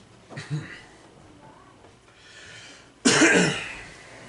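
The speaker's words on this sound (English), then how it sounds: "Sorry for the coughing. I know you guys are going to hear that." Two short, harsh coughs from a person close to the microphone. The first is smaller, and the second is louder and rougher, after a quiet pause.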